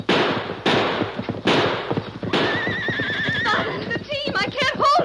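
Horses neigh in a radio drama Western shootout, shrill whinnies rising over shouting voices and heavy thumps, with the loudest wavering calls crowding together toward the end.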